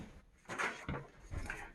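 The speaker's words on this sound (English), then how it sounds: "so that's why you hear the front door" A front door opens or closes somewhere in a house, a faint brief set of soft knocks and a light latch click in a quiet room.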